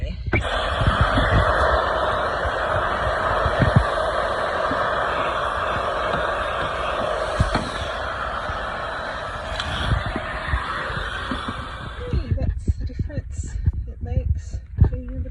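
A Dyson V11 Absolute cordless vacuum cleaner runs on a car interior with a loud, steady whirring whine that holds for about twelve seconds, then cuts out, leaving scattered bumps and handling noises.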